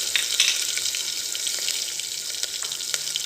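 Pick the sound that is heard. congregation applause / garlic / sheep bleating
garlic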